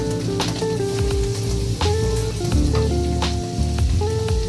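Chopped garlic frying in butter in a pan, a loud continuous sizzle with steady crackle close by and a low tonal hum underneath, no voices.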